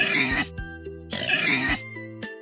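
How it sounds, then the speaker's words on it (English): A pig oinks twice, two loud, close grunting calls with a short pause between them and no talk. "A pig says, oink,"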